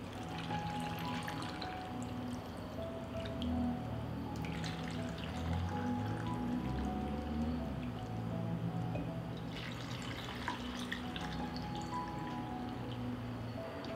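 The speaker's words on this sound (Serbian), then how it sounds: "Tegle ću napuniti sa hladnom vodom." Cold water pours into glass jars packed with washed sour cherries, a continuous soft trickle and splash that runs for several seconds at a moderate level.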